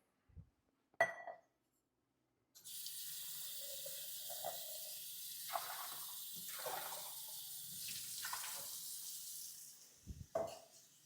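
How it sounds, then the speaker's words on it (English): Running tap water rinses out cocktail tools such as a jigger at a home bar, a steady broad hiss broken by clinks and shifting splashes, preceded and followed by brief knocks, with no talking. "And before I do that, I'm going to be rinsing out everything."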